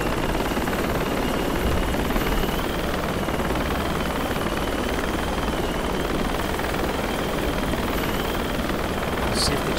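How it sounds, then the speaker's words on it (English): A helicopter flying overhead gives a continuous, loud, steady rotor and engine roar that fills the whole clip, with no voices over it. "Let's see if the chopper comes back first."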